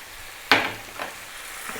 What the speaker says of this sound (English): So those onions are cooking down nicely.